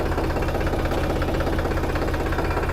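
A tractor engine idling in low gear, a steady, loud, rhythmic diesel chug with constant low thumping pulses and no talk over it.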